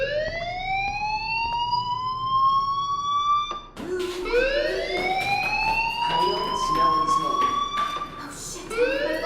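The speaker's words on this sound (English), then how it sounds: "Hey, do you hear that fire alarm?" Fire alarm in the Life Is Strange video game, sounding as a loud, continuous rising-and-falling electronic wail that keeps sweeping up repeatedly across the scene, with a brief break partway through.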